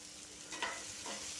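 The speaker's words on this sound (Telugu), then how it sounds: "బెండకాయతోటి, క్యారెట్తో, ముల్లంగితో వేగాలి." Okra, carrot and radish frying in a pan, giving a faint, steady sizzle with a brief stir midway, alone and without talk.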